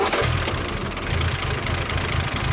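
A 1960 Aston Martin DB4GT idles at a concours show, its engine running steady and smooth with a low, even rumble and slight rhythmic pulsing, close and loud throughout.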